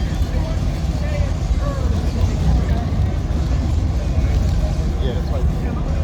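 Low, rumbling engine of the twin-turbo Alumacobra runs steadily at a garage, a dense broadband drone that stays loud and even throughout with no clear revving peaks and no speech.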